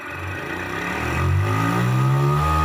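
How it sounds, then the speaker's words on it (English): A battery-powered portable milking machine motor starts up with a hum that rises in pitch and loudness over the first second or so, then settles into a steady drone. "So I will switch on the motor"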